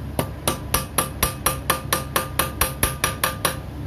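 A hammer strikes a metal hose clamp held in a vise, in a run of about a dozen sharp, evenly spaced metallic taps. The taps are close and clear with a steady rhythm.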